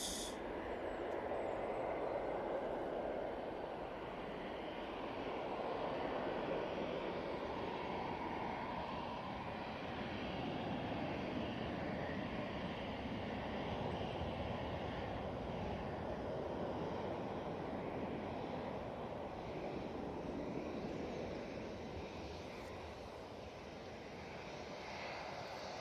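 A Ryanair airliner takes off at Manchester Airport, a steady distant jet engine roar that holds broadly level for the whole stretch, faint and continuous, with no voices.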